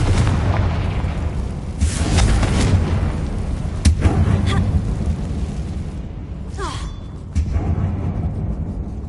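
Blasting-spell explosions in the Hogwarts Legacy video game: a loud booming blast with sharp cracking bursts, set in a tomb-like ruin, followed by further thuds and rumble over a steady low game background.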